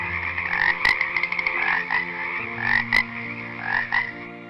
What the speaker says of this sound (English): So God sent the second plague, a plague of frogs.